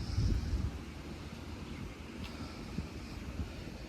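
Wind blows outdoors in a vegetable garden on a hot day, a steady low rumble of buffeting against the microphone that gusts louder at the start and then settles into a constant rush, with no talk.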